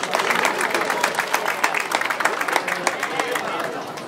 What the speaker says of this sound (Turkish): Alkışlar onlara.